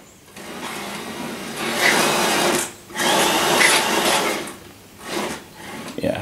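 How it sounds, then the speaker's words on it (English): Scraping, whirring rub of a home-built R2-D2 droid's dome head spinning slightly too low and catching as it turns, in several bursts of a few seconds each separated by brief pauses, fairly close and moderately loud. "just the head sitting just a millimetre or so too low at the moment, which is why it's rubbing as it goes around"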